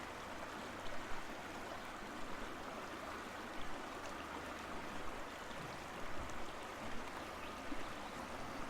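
A river rushes and gurgles steadily during a slow vehicle crossing, the broadband water noise continuous and fairly close with small splashy surges throughout, no voices.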